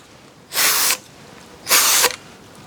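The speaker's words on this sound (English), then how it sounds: "I'm going to spray each one with about the same amount." Woolube lubricant sprays onto galvanised steel pieces in two short, close, even hissing bursts, with quiet pauses between them.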